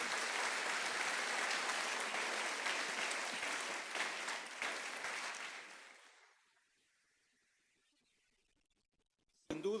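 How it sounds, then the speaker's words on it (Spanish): A church congregation applauding, a dense, steady wash of many hands clapping together for about six seconds before fading out into near silence, followed by a brief loud burst at the very end. "Dele un aplauso grande y fuerte a nuestro Señor."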